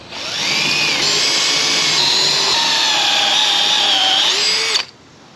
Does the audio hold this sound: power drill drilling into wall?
yes